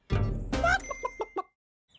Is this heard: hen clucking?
yes